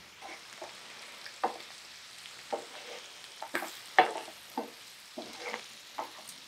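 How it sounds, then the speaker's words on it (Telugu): Fried prawns and chili powder are stirred in a sizzling pan for prawn Manchurian, with a soft steady sizzle broken by irregular scraping clatters from the spoon, close and without talk. "ఇప్పుడు మనం వేయించుకున్న రొయ్యలు కూడా ఇందులో వేసేస్తాం"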